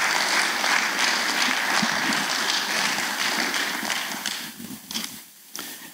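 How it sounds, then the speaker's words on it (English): Applause from an audience at a veterans-honoring men's breakfast, a dense steady clatter of many clapping hands that tapers off near the end into a few scattered claps. "So let's give him a big round of applause."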